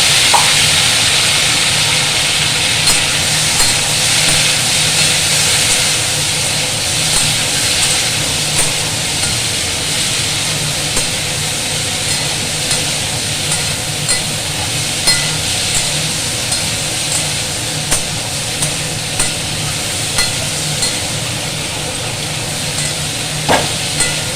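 Dried red chillies and panch phoron crackle in hot oil in a pan for a pointed gourd and soybean curry, a steady close hiss with faint regular pops and ticks throughout.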